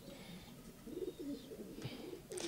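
Pet pigeons kept by a fancier coo faintly in soft, rolling bursts, with a couple of brief flutters, in a quiet setting.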